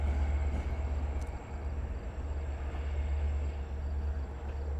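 Long Island Rail Road train 6095 rolling into the Speonk yard's south siding, a steady low rumble with a faint high tone above, heard from a distance.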